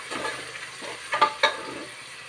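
Tomatoes with a little salt sautéing in a pan for prawn biryani, a soft sizzle broken by a few sharp utensil scrapes and clinks as the mixture is stirred.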